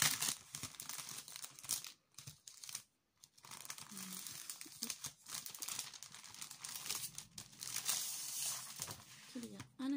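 Paper from an arts-and-crafts supply haul is handled and crinkled close up, with crackling bursts broken by short pauses.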